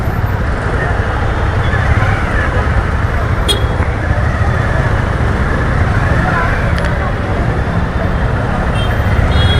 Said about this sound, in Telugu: కానీ ఫుల్ ట్రాఫిక్ ఉంటుంది